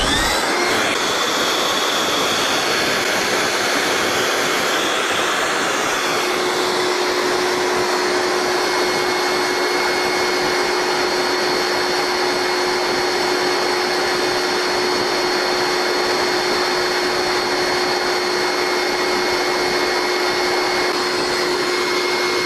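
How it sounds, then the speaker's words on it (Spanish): A powerful electric fan blows air onto a small wind turbine model, producing a loud, steady broadband roar with a constant whine running throughout, unchanging over the whole stretch. "vamos a moverlo con un ventilador, que es bastante potente y que tengo aquí"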